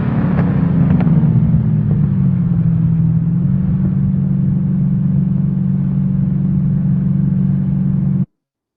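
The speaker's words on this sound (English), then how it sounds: "So that was the muscle car we heard in the first-person view." A muscle car engine from the racing video game Heading Out drones loudly and steadily, with a low rumbling tone that settles after a brief revving shift early on, then cuts off abruptly; no voices.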